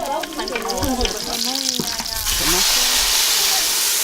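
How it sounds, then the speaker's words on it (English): Garlic, onions and tomatoes fry in a pan in a rural Rwandan village kitchen, a loud steady sizzle that swells into a stronger hiss partway through, with voices talking over the first half. "they're just frying up a little bit of garlic, onions, and tomatoes"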